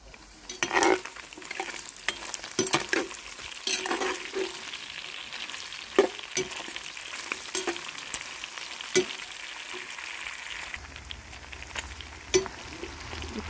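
Turkey pieces browning in a kazan at an outdoor dacha, a steady close sizzle broken by repeated sharp scrapes and knocks of a utensil stirring against the metal pot.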